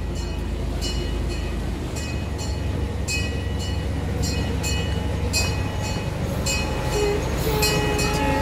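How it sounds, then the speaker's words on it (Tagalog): Vancouver Zoo train rolling into its station, a continuous loud low rumble with repeated rhythmic clicks and clanks of the wheels and cars, and a few squeaky tonal notes later on; no talk. "Look at the train."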